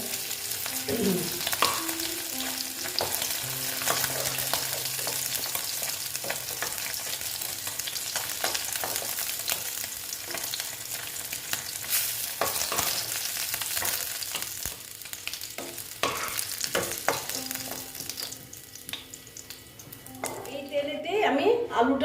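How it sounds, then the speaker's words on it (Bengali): Tangra fish fry crisp in an oily pan with a loud continuous sizzle and occasional stirring clinks, while a person talks over the cooking throughout. "আমার মাছ ভাজাটা প্রায় হয়ে গেছে দেখো বেশ কড়া করে ভেজে নিয়েছি"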